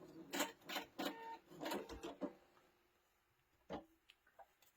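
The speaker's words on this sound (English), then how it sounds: "let me re-sew this little guy just a little straighter" A sewing machine stitches layer cake fabric for a quilt, heard as a quiet burst of rapid mechanical clattering in short runs, then a pause and a couple of isolated clicks.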